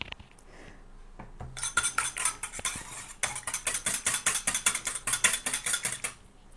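A hair care paste being whisked in a bowl, a fast rhythmic series of wet metallic clicks and scrapes that runs steadily for several seconds, close and fairly quiet, with no talk.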